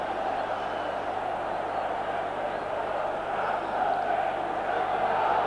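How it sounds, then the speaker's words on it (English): Italian football fans in a packed stadium crowd at a Milan versus Real Madrid European Cup match raise a steady, distant roar of ironic cheering that holds at an even level throughout, broadening slightly near the end. "that certainly produced some ironic cheering from the Italian fans who know all about Sanchez"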